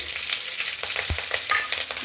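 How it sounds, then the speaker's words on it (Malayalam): Continuous hiss of chopped green chillies frying in oil, with light scraping of a stirring utensil and occasional crackles; no one speaks. "നല്ലപോലെ ഒന്ന് അത് വറുത്തിട്ട് കൊടുക്കും"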